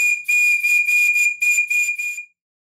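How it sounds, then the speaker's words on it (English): A model steam whistle on a Stuart model steam plant, blown with compressed air, sounds a loud, shrill steady tone broken into several quick pulsing bursts over about two seconds, then stops abruptly. "Then I reconnected the compressed air line to the other whistle."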